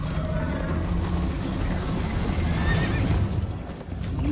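A horse in Minecraft: Story Mode whinnies over steady galloping hoofbeats and rushing noise, loud and continuous throughout.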